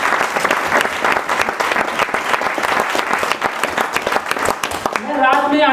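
A seated audience at a motivational talk claps loudly and steadily for about five seconds. The clapping stops when a voice resumes speaking.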